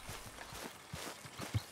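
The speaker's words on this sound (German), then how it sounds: "Hier ist unser Pferdchen." A horse's hooves in Red Dead Redemption 2 clip-clop in a steady walking rhythm, soft and fairly close, with about eight even hoof falls.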